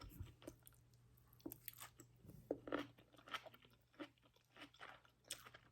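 Crunchy cooked broccoli from a homemade stir-fry being chewed close up, with repeated soft crunches and moist bites spread evenly through the clip over a low steady hum, no talking.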